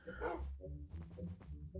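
A dog barks in Minecraft, a few quick, soft yips and woofs in an uneven rhythm, faint and alone.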